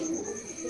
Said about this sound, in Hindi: तो ये देखो भाई कितना प्यारा कबूतर है भाई